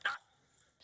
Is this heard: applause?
no